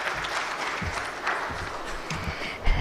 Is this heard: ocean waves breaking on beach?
no